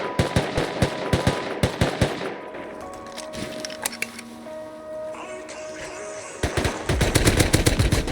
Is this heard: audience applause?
no